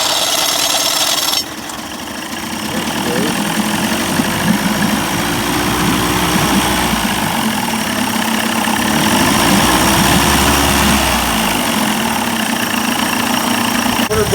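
A 1990s 30 hp Evinrude outboard motor with a rebuilt carburetor cranks briefly, then settles into a loud, steady, close idle with a low rumble and a slight wavering throb.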